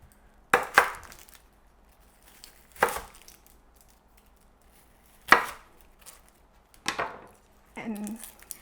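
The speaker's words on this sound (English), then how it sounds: "I'm just going to cut it into quarters" A knife cuts an onion into quarters on a cutting board, with five separate sharp chops spaced a second or two apart and quiet pauses between them. The chops are close and crisp.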